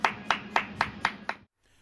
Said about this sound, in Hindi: बेरोजगार साथियों के लिए ताली और थाली, एक बार मोदी जी के लिए तो एक बार बेरोजगारों के लिए भी बजनी चाहिए